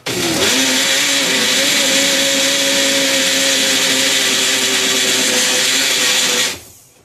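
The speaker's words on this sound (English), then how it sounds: "instead of using the blender, we use the Magic Bullet, my favorite item" A Magic Bullet blender whirs steadily as it blends a milk smoothie, a loud, sustained motor hum lasting about six seconds before cutting off abruptly.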